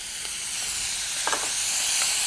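Tomatoes go into hot oil with briefly sautéed asafoetida, giving a continuous hissing sizzle with a few short crackles and bursts of spatter, close and fairly loud.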